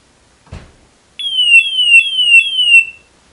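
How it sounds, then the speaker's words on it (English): A brief thump, then a loud, piercing high-level alarm from a GFG G460 multi-gas detector repeats five quick descending chirps in steady rhythm before cutting off. "you can see now we're in a red condition. High level alarms."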